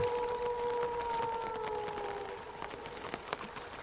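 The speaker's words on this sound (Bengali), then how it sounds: "আর সঙ্গে প্রবল বৃষ্টি আর বাতাসের শোঁ শোঁ শব্দ" Heavy rain and howling wind on a stormy night in a village, in an animated cartoon: a steady wash of rain hiss with long sustained whistling tones of wind gusting over it, no voices.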